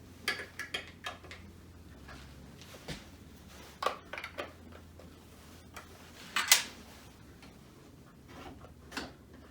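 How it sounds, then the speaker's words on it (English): A screwdriver works at screws on a Brother/Babylock 10-needle embroidery machine, giving sparse, faint metallic ticks and clicks over a low hum, with one sharper scrape partway through. "So I have to loosen those a bit, and again, I'm using this screwdriver."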